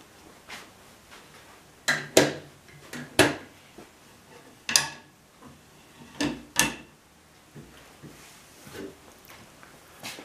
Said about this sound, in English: I'll close the doors so you can see.